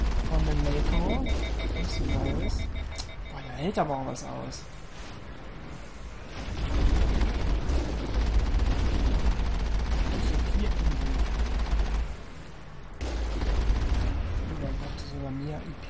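Heavy enemy gunfire in the Mass Effect video game pounds the shields of the Mako armored vehicle, a dense barrage of booming impacts and rumbling blasts that swells and dips while someone talks excitedly over it.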